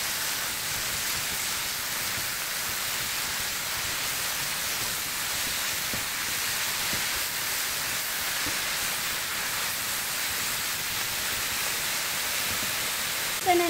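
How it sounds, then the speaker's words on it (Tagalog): Mulberry leaves being sautéed with milkfish in a pan, a steady hissing sizzle like light rain that holds evenly throughout, with a faint voice in the background. "Lalagay na natin yung mulberry. Igigisa natin siya."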